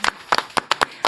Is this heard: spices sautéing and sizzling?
no